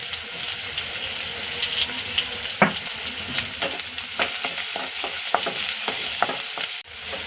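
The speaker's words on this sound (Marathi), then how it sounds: "कांदा ॲड करणार आहे आपला कांदा व्यवस्थित आपण आता परतून घेऊया" Chopped onion sautés in oil with cumin and mustard, giving a steady close sizzle with a run of spoon-against-pan clicks and scrapes as it is stirred, plus a brief louder knock near the end.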